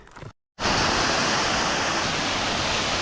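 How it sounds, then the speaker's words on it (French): A waterfall in the Ourika valley roars in a loud, steady, close rush of falling water that cuts in after a brief gap and continues without a break. "une cascade que nous venons de découvrir"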